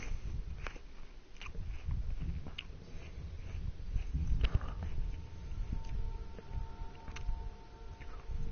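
An apple is bitten and chewed up close, giving repeated crisp crunches and wet munching, with a faint tonal hum in the background.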